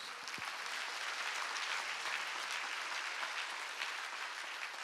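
A congregation applauding at a church revival meeting, a dense, even wash of clapping from many hands that holds steady throughout, fairly distant and without voices over it.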